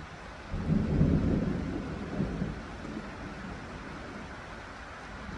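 A low rolling rumble of thunder swells and fades over a steady wash of falling rain, the thunder building early then trailing off beneath the constant outdoor patter.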